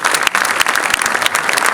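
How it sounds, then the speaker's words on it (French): Audience applause for a half-size orchestra at a New Year's greetings event, a dense, steady wash of many hands clapping, loud and close, running without a break. "Alors, encore un peu plus d'applaudissements, s'il vous plaît, pour les encourager."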